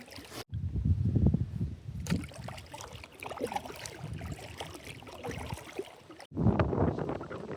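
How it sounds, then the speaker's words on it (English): Strong wind buffets the microphone on a lake while a canoe is paddled on a solo overnight trip in the Upper Peninsula, a steady roaring gust with abrupt cut-outs and a loud surge at the end. "Wind's getting intense out here."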